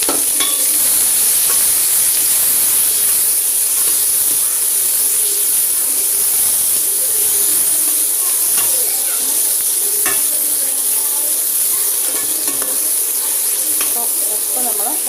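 Chopped onion stalks fry in a hot pan for a Kerala-style thoran, giving a steady, loud, close sizzle and hiss with occasional scraping and stirring sounds and no talking.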